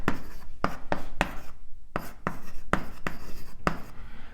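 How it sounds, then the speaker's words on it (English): Chalk or marker strokes on a board while an equation is written out during a cosmology lecture: quick rhythmic scratches in short bursts with brief pauses, close and clear, with no talking. "So let's just write out the Friedmann equation"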